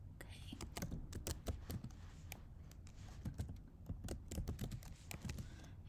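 Keys clatter in quick irregular bursts on a computer keyboard while a title is typed into a spreadsheet cell. The sound is quiet and close, with short pauses between runs of clicks.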